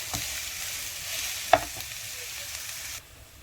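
Onions frying in a pan for a curry, a steady broadband sizzle with a sharp clatter or stir midway, cutting off abruptly near the end; no voices.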